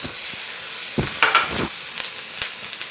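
Scallions sizzle steadily in hot vegetable oil while kimchi fried rice cooks in a pan. A few stirring clatters sound over the continuous frying.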